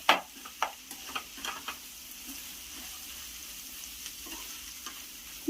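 Boiled egg frying in a pan for fried rice, a soft steady sizzle broken by several sharp scrapes and taps of a utensil early on, quiet and close.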